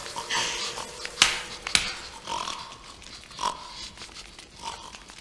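Pigs grunting and oinking in a staged performance, with several short snorts and squeals scattered over a busy background, two sharp bursts near the start, then softer grunts later.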